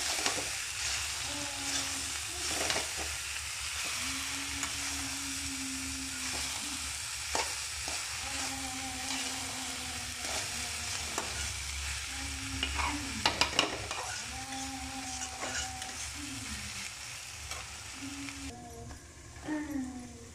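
Shredded cabbage sabzi sizzles steadily in a hot pan, with a soft continuous frying hiss broken by occasional stirring scrapes and clinks, heard close and moderately quiet with no talking.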